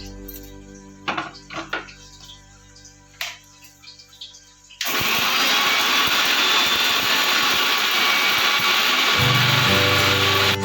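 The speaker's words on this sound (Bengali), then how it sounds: "মশলাটা আমি গুঁড়ো করে নিয়েছি" A few clinks and taps of setup, then a mixer grinder starts and roars loudly and steadily, grinding roasted homemade kadai masala into powder.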